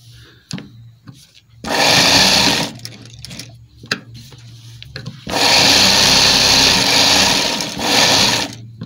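Sewing machine stitching a side pocket onto a men's kurta, running in two sustained close bursts of rapid mechanical whirring, separated by quieter pauses with small handling clicks and fabric shuffling.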